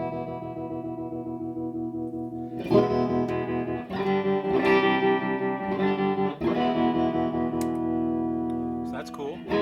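Gibson Hawk guitar amp with its tremolo engaged, sustained guitar chords pulsing in a steady wavering rhythm, loud and close, with fresh strums entering every couple of seconds.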